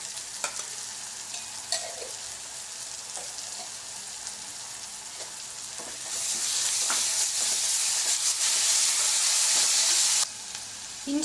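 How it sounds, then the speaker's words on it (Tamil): Ginger garlic paste with onions sautés in a pan for a chicken curry, a steady sizzle with occasional stirring scrapes that swells into a louder, hissing fry midway before easing off. "இஞ்சி பூண்டு பேஸ்ட் நல்லா வதங்கிருச்சு."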